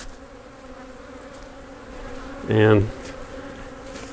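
Honey bees buzz near an opened beehive, one bee droning close by in a brief, loud pass over a softer steady hum of the colony, with a single spoken word.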